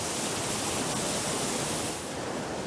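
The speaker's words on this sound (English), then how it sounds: "And here's that other waterfall" A waterfall pours steadily on Madeira near Seixal's black sand beach, a dense, even broadband rush with no breaks, moderately loud and close.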